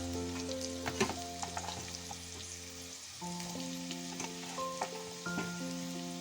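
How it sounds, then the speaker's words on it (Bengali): Potatoes and chunks of pumpkin fry in a pan, a soft, continuous sizzle with light crackles and occasional stirring clinks, heard close and alone while faint musical tones hum in the background. "এখন এগুলো সব আবার একটু ভেজে নেব"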